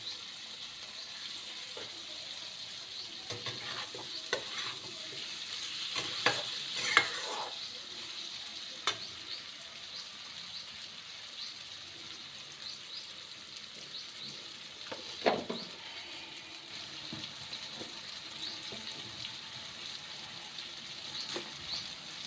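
Diced potatoes and boiled eggs fry in a pan with chilli, turmeric and cumin powder, giving a faint, steady sizzle with occasional soft stirring scrapes and clinks heard from nearby.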